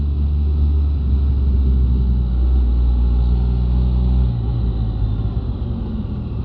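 A Can-Am Spyder RT Limited three-wheeled motorcycle rides along, its engine a loud, steady low rumble with wind noise, easing slightly lower toward the end.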